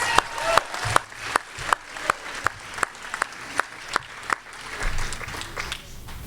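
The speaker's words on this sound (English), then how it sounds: "Yes, he deserves a clap." Rally crowd at a Bernie Sanders and Our Revolution endorsement event for Ben Jealous clapping in a steady, driving rhythm, loud and close, with crowd noise and cheering swelling beneath the beat.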